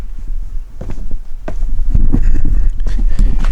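Horse hooves clip-clop in an uneven rhythm outdoors, growing steadier toward the end over a low rumble of wind or background noise.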